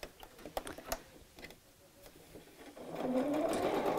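A sewing machine stitching through the padded layers of a craft mat bag on a long stitch; soft scattered clicks at first, then the motor whirs up steadily and close.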